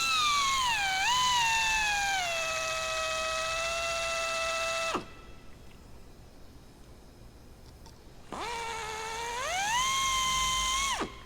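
A high-pitched power drill drilling out an aircraft rivet whines loudly, spinning down after about five seconds, a pause of low noise, then revving up again near the end.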